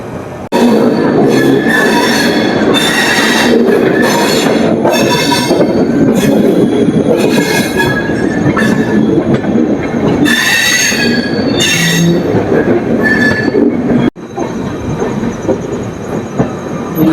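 Train noise from the Ernakulam SF Express out of Bangalore runs loud and steady, with rumble, rattling and wheel squeal and no speech, then the sound drops abruptly near the end.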